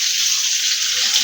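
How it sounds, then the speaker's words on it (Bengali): Hilsa fish fries in a pan with a loud, steady, hissing sizzle that runs unbroken for a brief moment, close up. "এখন হচ্ছে মাছ ভাজতে দিছি বাবুর। আমাদের একটা ইলিশ মাছ রান্না করতেছে"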